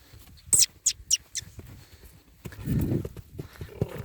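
Young colt Phoenix moving about, hooves giving a few sharp, irregular clip-clop strikes up close, followed by a louder low scuffling thud; no speech over it.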